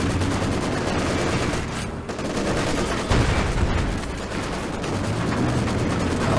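Sustained, dense gunfire from a World War II real-time strategy game, with Maxim machine guns firing against infantry; bursts overlap continuously at steady loudness with no pauses and no voices.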